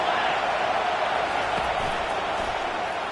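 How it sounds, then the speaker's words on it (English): A stadium crowd at a Miami Ohio versus Nebraska college football game roars as a steady, dense wash of noise, with no distinct cheers or claps standing out. "This crowd trying to make life miserable for this offense"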